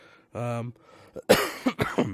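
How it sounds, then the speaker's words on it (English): A person who is ill coughs and clears their throat, with a lingering cough. A short vocal burst comes first, then a couple of harsh, close coughs and throat clearings. "now it's freaking this lingering cough that's tickling the back of my throat all the freaking time"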